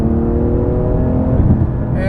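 A Porsche 991 GT2 RS with a 7-speed PDK gearbox accelerates hard, its engine roaring loud and close from inside the car with a steady rising drone and a brief dip near the end.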